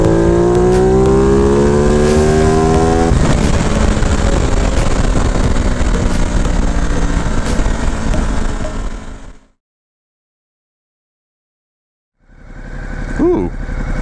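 A Ducati Multistrada Enduro 1200 engine on a dyno revs hard and loud, climbing steadily toward high RPM before cutting off abruptly into silence. After a short pause it fires back into another rising rev.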